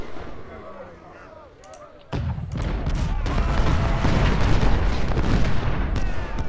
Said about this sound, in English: A few occasional shots here from the parapet